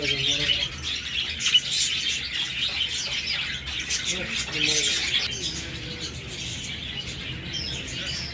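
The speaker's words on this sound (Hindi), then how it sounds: "ये पक्षी को लगा बहुत प्यार है कितनी अच्छी आवाज है" Birds sing and chirp continuously at Gwalior's Gandhi Zoological Park, a dense bright chorus of tweets with a voice talking faintly beneath.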